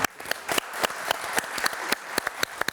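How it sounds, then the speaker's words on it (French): A small audience applauds at a football talk event, a steady patter of hand claps with sharp individual slaps standing out, fairly close and moderately loud. "Vous pouvez l'applaudir les autres quand même."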